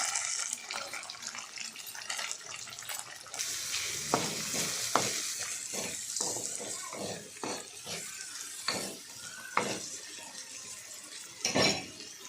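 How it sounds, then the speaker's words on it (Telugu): Onions sizzle in hot oil, a faint hiss broken by a series of stirring scrapes and clatters, with a splash of water in the mix and no talk. "పక్కన తీసి పెట్టుకున్న ఈ ఆయిల్లో ఉల్లిపాయలు వేస్తాను"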